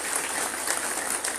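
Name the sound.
crowd applause for the Tiger Force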